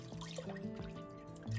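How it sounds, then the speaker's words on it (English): Water pours and trickles into a pan over oxtail, a faint close stream with small splashing gurgles and drips. "Add enough water to cover the meat"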